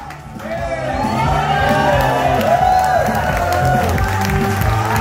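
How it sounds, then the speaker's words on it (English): A concert crowd cheering and clapping for a band, loud and sustained, with whoops and shouts rising over the applause. "A round of applause for them."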